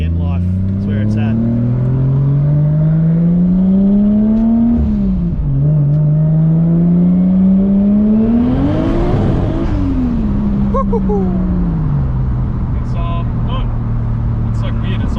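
A Toyota Chaser with a 1JZ-GTE six-cylinder on E85 making 450 hp revs and accelerates through rising, falling and rising engine pitch, loud and close, with a possible voice underneath.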